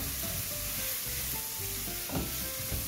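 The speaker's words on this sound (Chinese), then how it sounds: "大约略炒一下" Yellow and red bell pepper, mushrooms, snow peas and pine nuts stir-fried in a wok, a continuous close sizzle with scraping stirring strokes and a few light clinks, no talking.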